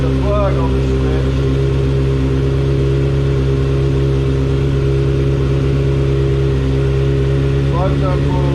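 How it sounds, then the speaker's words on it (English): Motorcycle engine started and idling in gear, a loud, steady low-pitched rumble with constant tonal hum that runs unbroken throughout, with brief faint sounds at the start and near the end. "I'm going to show you that the bike will start in gear"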